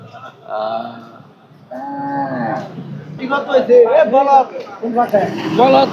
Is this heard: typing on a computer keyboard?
no